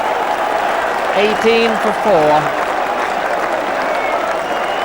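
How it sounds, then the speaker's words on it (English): A cricket crowd at Southampton roars and applauds steadily after a wicket in a hat-trick over, a broad continuous wash of cheering under a commentator's voice. "the crowd again has gone mad"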